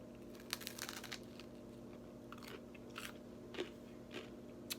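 Close crunchy bites and chewing of a toasted, buttered sourdough bagel, several crisp crackles spread over a quiet, humming room.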